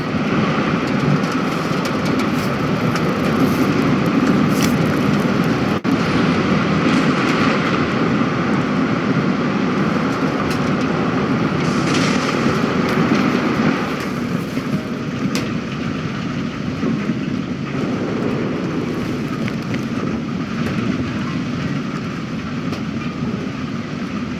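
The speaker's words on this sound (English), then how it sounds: "The engine started." A vehicle engine running in the video game The Invincible, a continuous, loud, steady rumbling drone with a slight shift in tone partway through and no speech over it.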